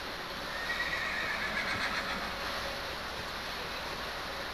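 A horse whinnies in Minecraft PlayStation 4 Edition, a drawn-out neigh rising over a constant steady background hum, fairly loud and with no voices.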